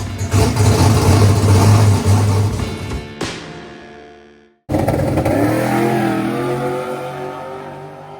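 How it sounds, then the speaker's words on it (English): A hot rod race car engine revs loud and close, then cuts out abruptly into near silence before roaring back to life and settling into a rough, throaty idle. "We just got the hot rod started up."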